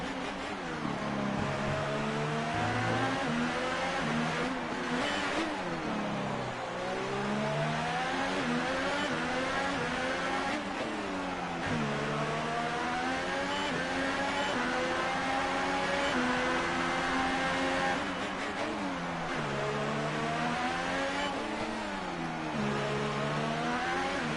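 A Formula 1 race car engine in F1 2018, at the Singapore GP, screaming as it revs hard down a short straight, pitch climbing through gears with brief dips at each shift, loud and steady with no talk.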